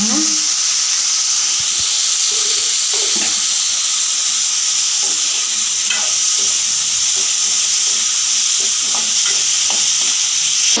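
Tomatoes and salt sautéing in a pan for mint chutney, a steady loud broadband sizzle with scattered clinks and scrapes of stirring throughout, no voices.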